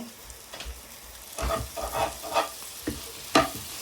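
Chili paste with green chilies frying in a pan, a quiet sizzle broken by several scraping stirs of a spoon, close by with no speech.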